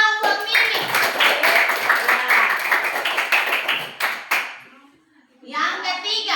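Children in a primary school classroom clap together for a classmate during a science lesson, a brisk, loud burst of many small hands that stops abruptly, followed by a short pause and then a voice.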